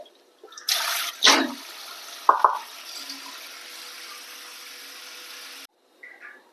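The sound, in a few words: water washing tapioca (kappa)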